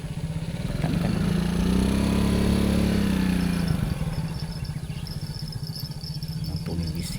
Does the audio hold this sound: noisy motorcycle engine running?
yes